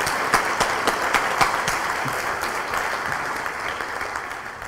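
Sustained applause from an audience at a lecture on mode-locked lasers, a steady dense patter of clapping held throughout at moderate loudness.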